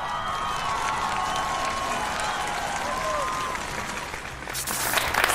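Audience applause for an opera singer, sustained dense clapping from a large crowd with some cheering, steady and fairly loud, swelling slightly toward the end.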